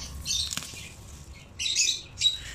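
Lovebirds flutter in a cage in bursts of rustling wing flaps, with a couple of short chirpy bursts later on; nearby and fairly soft, no talking.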